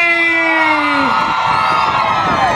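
A loud crowd at a bullfight-day comedy show shouts, whoops and cheers continuously, with high voices and a rising, wavering yell layered over the dense roar.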